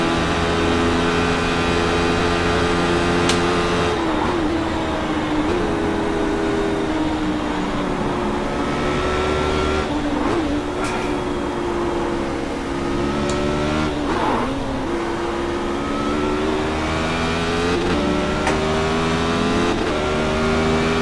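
Radical race cars in iRacing at Mosport scream along continuously for about twenty seconds, with high-revving engine tones dipping and climbing through repeated gear changes and passing cars, loud and close with no talk.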